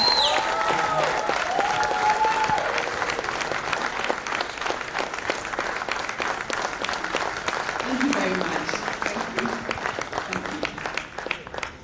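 Audience applause fills a book launch event for The Bold New Normal, steady dense clapping sustained throughout at close range, with scattered voices and a brief musical tone early on.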